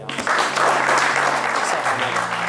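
Studio audience applauding during a TV show, a loud, dense burst of clapping that fills the whole stretch, with a voice talking briefly underneath.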